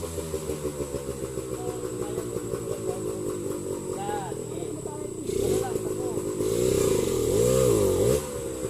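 A motorcycle on a mountain trail revs hard as the throttle opens and the clutch is let out, engine roar climbing and surging louder toward the end, with people shouting and cheering over it throughout.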